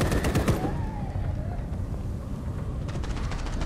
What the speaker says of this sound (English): Ooh, someone's shooting.